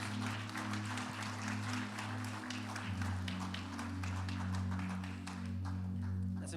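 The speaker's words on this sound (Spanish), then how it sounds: "Den un aplauso al Señor, por favor." A church congregation applauds in praise, a steady patter of many hands over a low sustained musical drone, with a voice faintly underneath.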